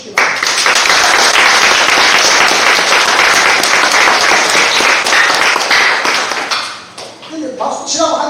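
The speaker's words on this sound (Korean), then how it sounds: "원하시는 분은 박수를 한번 쳐주시기 바랍니다." A loud crowd of hands claps together in a congregation at a care hospital gathering, sustained thick applause that fades out near the end as a voice begins talking.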